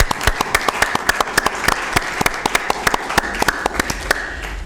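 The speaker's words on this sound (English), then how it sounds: "One more round of applause." Applause at a county board of supervisors meeting, a moderate room of people clapping in a brisk, fairly regular pattern of distinct claps, close and steady with no talk over it.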